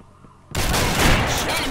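A sudden loud burst of gunfire from the online shooter game Combat Arms, a no-scope headshot, cuts in after a moment of near silence and stays dense and sustained to the end.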